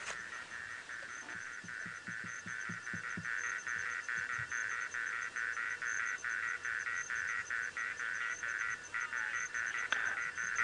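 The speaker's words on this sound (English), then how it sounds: "As the chorus of frogs kick off again, they're all croaking." Faint frogs croak in a dense outdoor chorus at sunrise in the African bush, with a steady high trilling over a run of low pulsing calls.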